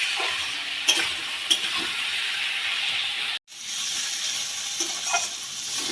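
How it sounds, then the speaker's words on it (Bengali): Ash gourd cooking in a pan is stirred while it sizzles and fries; a steady hiss runs throughout, with a few sharp scrape taps from the spatula and a brief dropout midway. "চাল কুমড়োটাও এইভাবে নাড়তে নাড়তেই রান্না হয়ে যাবে।"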